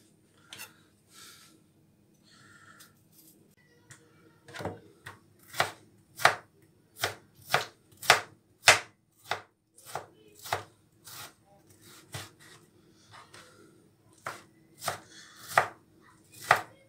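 A knife chops vegetables on a board for a country-style salad: sparse taps at first, then a fast, steady run of sharp, close chops with short pauses and no voices.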